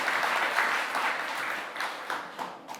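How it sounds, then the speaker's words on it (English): A crowd claps continuously at a student literary awards ceremony, a dense, fairly loud wash of applause that thins slightly toward the end. "Maybe we can clap for him?"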